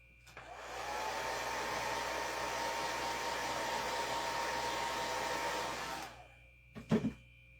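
Hair dryer blowing on a craft letter S, a steady loud whooshing drone for about five seconds that cuts off, followed by a couple of quick clunks.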